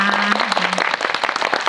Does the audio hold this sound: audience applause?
yes